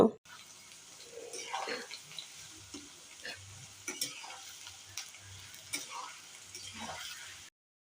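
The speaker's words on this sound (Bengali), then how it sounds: "আলুগুলো দিয়ে সামান্য পরিমাণে লবণ দিয়ে অনবরত নেড়ে চেড়ে হালকা গোল্ডেন কালার করে ভেজে নেব" Thin-cut potatoes fry in oil with a little salt and are stirred constantly, with a soft steady sizzle broken by repeated scraping and tapping of the spatula in the pan, fairly quiet and close.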